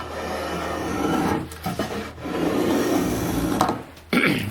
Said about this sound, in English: you'll see that the spoke shave does a pretty good job of taking things off real quick